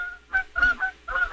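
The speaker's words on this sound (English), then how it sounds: "Have you got geese flying over you?" Canada geese honk overhead in a short burst of nasal, repeated calls, fairly close and clear, with no talking.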